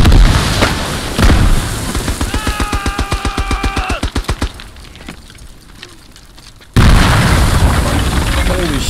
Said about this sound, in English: Oh, big grenade! Get down!